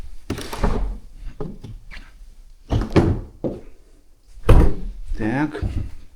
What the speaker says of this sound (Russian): Осторожно, дверь тяжелая.